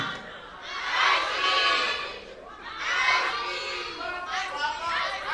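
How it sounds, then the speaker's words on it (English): A crowd of hijab-wearing women in a conference audience shouts together in loud, swelling waves of high voices, fading and rising again several times. "it's like it's the hijabis that are shouting"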